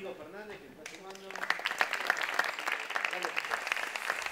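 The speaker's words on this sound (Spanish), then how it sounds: "les pido un fuerte aplauso para Luis Diego Fernández, que está sumando." An audience breaks into applause for a speaker at a festival talk, the clapping swelling loud and dense after a voice introduces him, then continuing steadily.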